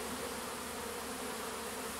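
Dense, even buzzing of a big honeybee swarm being coaxed onto a hive frame, close and unbroken throughout.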